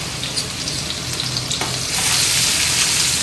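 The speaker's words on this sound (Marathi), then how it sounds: "तेल आपला गरम झालेला आहे. टाकूया लसूण." Garlic goes into hot oil and the frying swells into a louder, dense, close sizzle after a low simmering hiss, with no voices.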